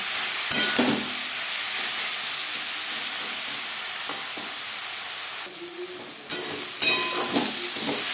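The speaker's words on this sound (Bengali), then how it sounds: "পেঁয়াজটা মতো ভাজা হয়ে এসছে" Onions fry in a pan with a steady, hissing sizzle close up, joined by occasional spatula scrapes and clinks.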